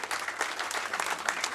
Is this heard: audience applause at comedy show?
yes